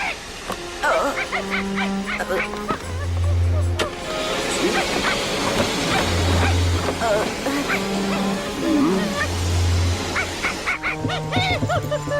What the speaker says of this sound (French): on aurait dit un chien